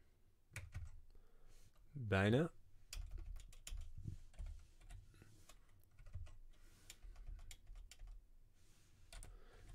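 Quiet, rapid clicking of a computer keyboard as code is typed in a Unity 3D tutorial, with a dense run of keystrokes and a brief spoken word over it.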